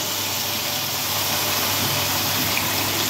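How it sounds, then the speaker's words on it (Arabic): Hot water from a kettle pours steadily onto turkey pieces in a pot, a soft continuous hiss and gush, faint and close without talk. "نجيب معانا ميه من الكاتل اهي سخنه، وهننزل بقى كده ايه على الرومي"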